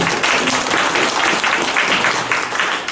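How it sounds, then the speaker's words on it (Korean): Congregation applauding in welcome at a Sunday Easter morning church service, a steady, dense wash of clapping that runs loud and unbroken throughout with no voices rising above it. "박수로 우리 한영을 뜨겁게 좀"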